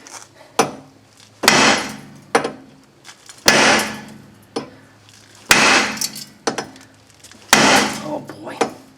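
Hammer blows on a rusted axle nut of a 1998 Subaru Outback, four or five heavy, loud metallic strikes spaced about two seconds apart, each ringing briefly, with small clanks between.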